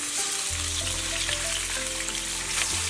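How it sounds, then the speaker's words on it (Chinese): Diced meat frying in hot cooking oil in a wok gives a steady, close sizzle that stays even throughout. "锅中倒点食用油，油温4、5成热，下入肉丁。"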